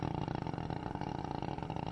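A fishing boat's long-shaft outboard engine runs on a freshwater lake, a close, loud, steady buzzing drone with a rapid pulsing rhythm and no talk.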